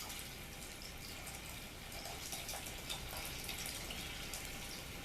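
Hot water from a tap pours steadily into honey and oil for homemade bread dough, a soft, continuous hissing rush that stays faint and even throughout.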